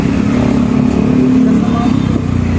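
A motorcycle engine running right after a kickstart, a loud close steady idle with a throbbing low rumble, while voices talk over it.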